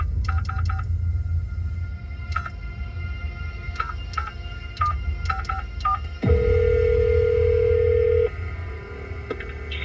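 A touchtone phone dials out with a quick series of short DTMF beeps, then a steady ringback tone sounds for about two seconds over low background hum while placing a call.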